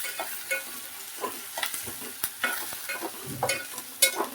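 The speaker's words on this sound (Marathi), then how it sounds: "मिक्स करायचं हे अद्रक लसूणचं पेस्ट." Ginger garlic paste being stirred into onions frying in a pan, with a steady sizzle and repeated scraping strokes of a spoon at close range, no voices.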